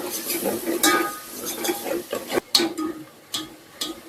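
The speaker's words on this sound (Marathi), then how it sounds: "आता आपण कांदा आणि टोमॅटोची प्युरी टाकून घेऊया. याला पण मस्त असं तेल सुटेपर्यंत परतून घ्यायचं आहे." Onion-tomato puree stirred and frying in oil in a pan for a spicy village-style egg curry, with soft sizzling under repeated scraping strokes of a spoon and a few sharp clicks against the pan.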